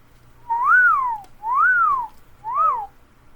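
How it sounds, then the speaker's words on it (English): Three clear whistled notes, each sliding up and then down, loud and close, with short pauses between them and no talking. "You're just whistling."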